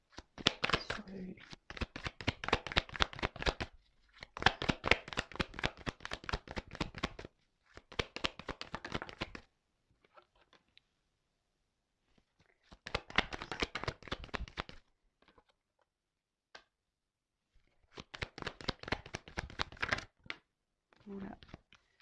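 Tarot cards shuffled and drawn by hand in bursts of rapid, riffling crackle, with pauses between bouts and a few soft card placements, close and fairly quiet.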